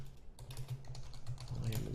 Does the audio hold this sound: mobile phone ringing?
no